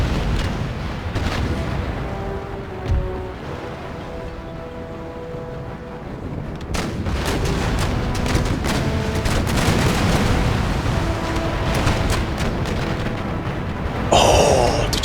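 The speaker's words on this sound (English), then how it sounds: "See that rolling barrage." Rolling artillery barrage from a sailing warship's broadside in the naval battle game Empire: Total War, a long run of heavy booms and cannon fire rumbling on continuously, loud and dense, with a sharper burst near the end.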